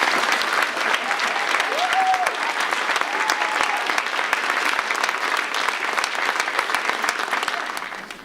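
Sustained audience applause fills an award ceremony hall at a school certificate of achievement event, steady dense clapping throughout with a faint voice or whistle briefly rising above it, tapering slightly at the end.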